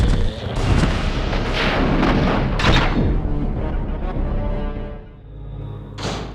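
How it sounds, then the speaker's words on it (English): Nemesis firing his rocket launcher in Resident Evil 3, a loud booming blast with roaring rumble that slowly decays, followed by a short sharp burst near the end. "normally we wouldn't be able to see Nemesis fire his rocket"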